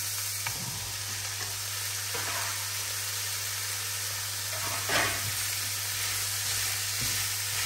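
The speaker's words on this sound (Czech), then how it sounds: "takhle se to lehka orestuje, přidám tam žampiony" Button mushrooms sauté with smoked meat in a pan, giving a soft, steady sizzle with a few faint stirring scrapes, fairly quiet and heard alone.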